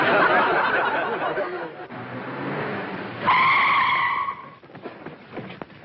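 A car skids to a sudden stop, a loud screeching tire squeal lasting about a second after a stretch of engine and road noise, with people talking around it.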